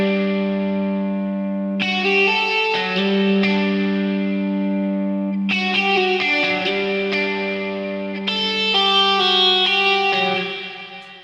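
Indie rock electric guitar with a crunchy distortion preset plays sustained ringing chords in three bursts, each new strum rich and slightly reverberant before fading at the end.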